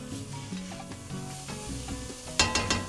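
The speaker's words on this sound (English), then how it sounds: "I'm gonna mix those up and get those toasted and fragrant" Paprika and other spices stirred and toasted in a hot pan, with a steady soft sizzle, scraping stirs throughout and a few sharper clinks of the utensil near the end.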